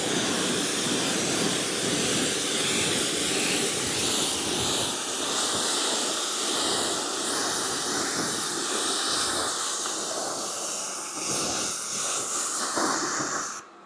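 An MJJC foam cannon sprays Garage Therapy shampoo onto a car as a pre-wash. A loud, steady, close hiss carries on almost unbroken, dipping briefly near the end before cutting off, with no talking.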